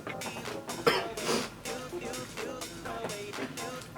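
A person coughs repeatedly and clears their throat after a vape hit. The hacking comes up close in uneven bursts over a few seconds, with no speech.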